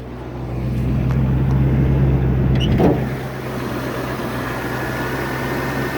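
A 1994 Range Rover engine idles with a steady low hum, briefly rising before a short clatter, then settling into an even, quieter idle.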